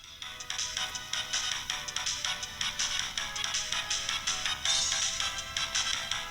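Built-in speaker of an RG 34XX SP handheld retro clamshell console playing game music, a bright, tinny melody with a regular pulsing beat, steady and close throughout.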